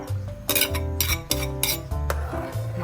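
A utensil mixes egg into a sauce in a pan, giving a run of close, ringing metallic clinks and scrapes in an irregular rhythm, with no talking.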